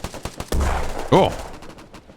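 Grenade blast in the shooter game Task Force, a sharp close explosion bursting after a few quick gunshot-like cracks, followed by a brief decaying rumble and a short voice.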